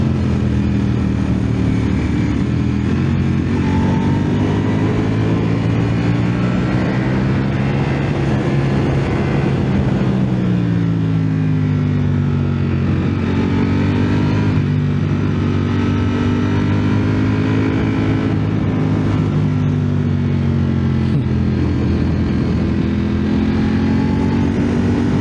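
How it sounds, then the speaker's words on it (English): A 2024 Ducati Panigale V4S roars continuously while being ridden on residential curves, its engine note rising and falling with throttle as the rider accelerates and shifts, loud and close throughout. "Now the bike comes alive."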